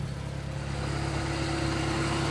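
A used car's engine idles steadily after a cold start, a continuous mid-pitched hum with a faint tonal whine, loud and close with no talking.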